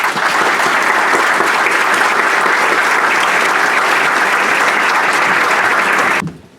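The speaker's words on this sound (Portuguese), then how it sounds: "Peço a todos que me acompanhem numa salva de palmas a estes colegas pelo trabalho que fizeram." Audience applause at the opening session of a labour inspection centenary conference, a loud, dense and sustained round of clapping from a large hall crowd that stops abruptly after about six seconds.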